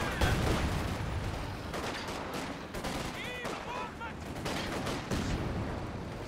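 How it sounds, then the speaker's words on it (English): Gunfire in Company of Heroes 2 during a 4v4 Urban Assault match on Road to Arnhem, with dense rattling bursts and scattered shots throughout, blended with battlefield noise and a brief whistling sound in the middle. "oh no, they're shooting at us"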